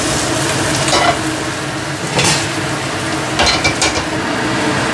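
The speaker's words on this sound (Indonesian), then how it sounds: "Jadi saya goreng dulu sebelum saya masak." Food fries in a pan with a steady, loud, close sizzle throughout, broken by a few louder bursts of stirring or scraping; no one talks.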